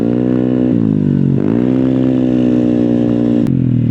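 A motorcycle fitted with a switchable exhaust silencer idles and revs close and loud, its steady drone rising and dipping a few times.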